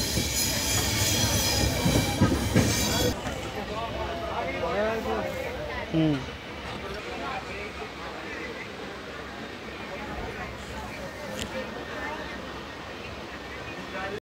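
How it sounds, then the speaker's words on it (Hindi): The Shane Punjab Express, a diesel-hauled passenger train, rolling into Rajpura Junction: a loud rumble and wheel clatter at first, easing into steady rolling with faint squeals, under a voice talking throughout. "एक्सप्रेस अपने पंजाब में पहले ऑफिशियल होल्ड राजपुरा जंक्शन पे एंटर करती हुई"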